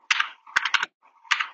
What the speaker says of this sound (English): I will type in the ping.